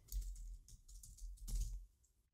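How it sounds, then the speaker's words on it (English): Typing of a name and email into web form fields on a computer keyboard, with close, quick irregular key clicks in short bursts and a brief pause near the end. "So what if we just type in name and email"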